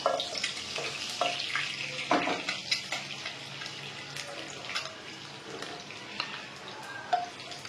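Eggs frying in a pan for an egg curry, a soft continuous sizzle with scattered clicks and scraping stir strokes, moderately quiet with some watery hiss.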